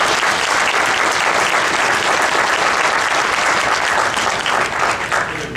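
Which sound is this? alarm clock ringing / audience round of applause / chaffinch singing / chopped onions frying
audience round of applause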